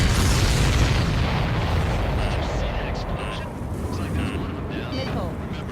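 A loud missile explosion in Ace Combat 7 bursts at the outset as a dense, roaring rumble that slowly decays, with faint beeping cockpit tones and radio voices over the fading blast.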